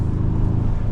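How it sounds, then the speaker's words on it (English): A 2023 Ford Ranger Raptor's exhaust gives a deep, steady grunt, a low throbbing rumble held close and loud for a brief moment. "The exhaust has a nice grunt to it."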